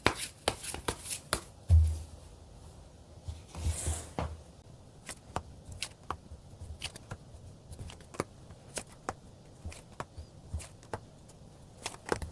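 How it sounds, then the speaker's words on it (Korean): Tarot cards being shuffled and drawn: a quick flurry of riffling card slaps at first, then scattered soft snaps and slides of cards handled close up in a quiet room. "카드로 한번 뽑아보도록 할게요"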